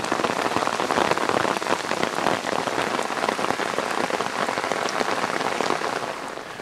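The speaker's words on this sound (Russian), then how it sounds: "Дождь не только не дал просушиться" Heavy rain pours steadily onto a surface, a dense continuous patter with no voices, close and loud, easing slightly at the end.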